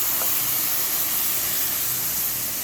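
Milk poured into a hot pan of bread halwa for Hyderabadi double ka meetha, giving a loud, constant sizzling hiss that holds steady from start to finish, with no talking.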